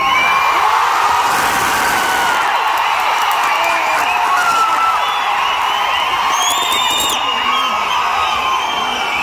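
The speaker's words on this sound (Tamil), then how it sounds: "அவ்வளோ பெரிய ஆரவாரத்தை நீங்கள் இந்த லியோ படத்துடைய சென்சார் சர்டிஃபிகேட் ஸ்க்ரீனில் வரும்போதே பார்க்கலாம்" A packed theatre audience at a screening of the Tamil film Leo roars, cheers and whistles without a break, with high shrill whistles standing out over the dense crowd noise throughout.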